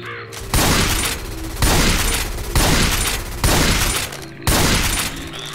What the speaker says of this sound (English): Taking the machine gun.